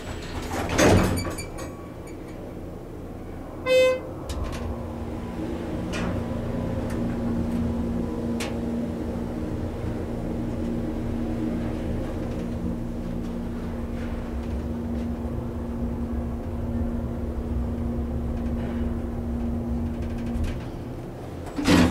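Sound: glass Schindler 330A elevator running

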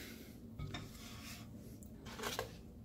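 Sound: plate placed over a bowl

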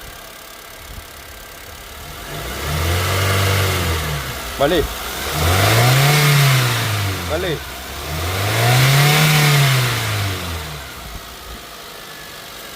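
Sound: car engine revving with accelerator

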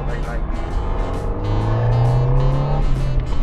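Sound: classic Ferrari engine accelerating while driving

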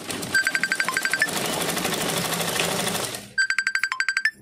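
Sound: sewing machine stitching blouse fabric

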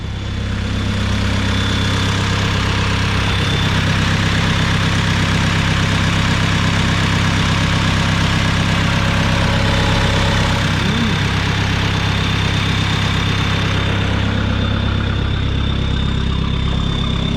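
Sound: turbocharged car engine started and idling

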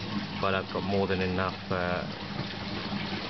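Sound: water splashing into aquaponics tank with bubbles

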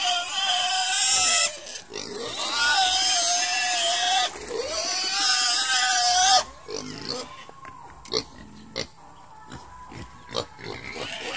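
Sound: pigs grunting and oinking

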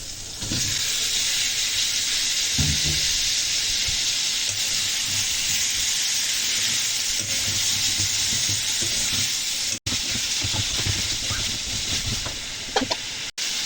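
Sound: chicken and potatoes frying in spice masala

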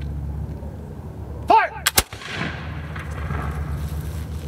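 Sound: flintlock musket firing in a historical firing demonstration

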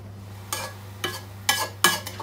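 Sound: vegetables being sautéed and stirred in a pan

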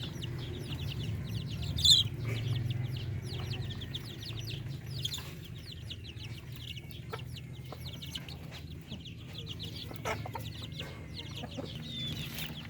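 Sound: native Filipino breeder chickens clucking

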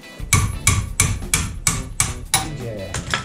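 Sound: hammer striking car suspension part

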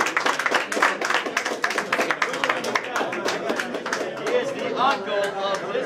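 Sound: round of applause for boxer Rosalino Popo Freitas

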